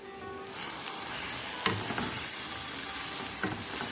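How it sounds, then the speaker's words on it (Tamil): Egg masala, a Tamil egg gravy, is stirred in a hot pan, with steady sizzling throughout and two or three sharper spoon scrapes cutting in; no voices are heard. "சேர்த்துட்டு ஒரு 3-4 நிமிஷம் இந்த முட்டையை இந்த மசாலா கூட அப்படியே மிக்ஸ் பண்ணி விட்டுக்கலாம்."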